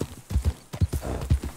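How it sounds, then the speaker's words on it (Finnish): Horse hooves gallop in Red Dead Redemption 2, a loud, close clip-clop in a quick, steady rhythm of heavy thuds heard alone. "Hyvin tää ainakin juoksee, kun tää ei oo oma heppa."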